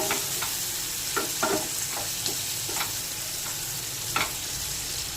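Prawns stir-frying with vegetables in a hot pan for egg prawn chowmein, a steady sizzle broken by several clattering stirs of a spatula against the pan, close and alone.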